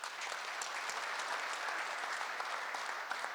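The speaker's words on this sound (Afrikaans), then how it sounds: "Ek dink ons vir hulle hande klap gee." Audience applause at a farming panel discussion, dense steady clapping from a full room that holds for the whole stretch.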